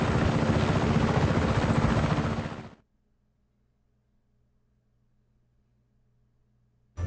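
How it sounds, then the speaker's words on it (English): A helicopter in the video game Just Cause 3 roars loudly and close with a dense rotor and engine wash for nearly three seconds, then cuts off abruptly to near silence before surging back briefly at the very end. "The controls are the same for the helicopter."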